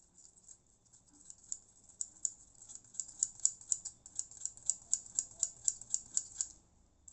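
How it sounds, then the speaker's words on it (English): A fibreglass pencil scrubs rust and oxidation off a Rivarossi model tram: a close, steady series of short, crisp scratching strokes that grow in a regular rhythm, with no talk over it. "Fiberglass pencil is great because it really eats into the oxidation."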